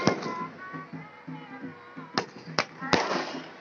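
Fireworks over the Saryu River during Deep Daan at Durga Puja give three sharp, loud bangs in quick succession while a person talks steadily in Hindi throughout.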